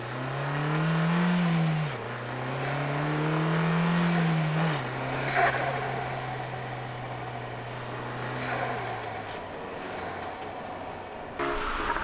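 A Renault Megane RS 280 Cup's engine and exhaust drone while driving, low engine tone rising and falling with gear changes amid road and wind noise, with no voices.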